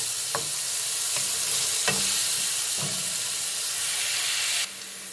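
Onions fry in a pan for curry chicken, a loud continuous sizzle broken by several sharp stirring scrapes, the hiss dropping in level just before the end.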